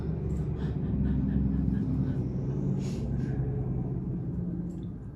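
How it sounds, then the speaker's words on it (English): Loud trucks roll past outside in a continuous low rumble that swells and fades over several seconds, heard from indoors at a moderate distance. "There's a lot of loud trucks going by this today."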